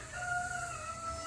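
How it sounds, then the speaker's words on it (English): A rooster crows once close by, a clear drawn-out call over quiet background hiss. "you can hear my rooster in the background"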